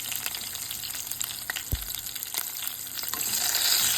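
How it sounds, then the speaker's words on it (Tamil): Chopped ridge gourd sautés in a pan with a steady, soft sizzle and crackle, broken by a few clinks and scrapes of stirring, growing slightly louder toward the end. "இது நல்லா லேசாக நல்லா வதங்கட்டும்."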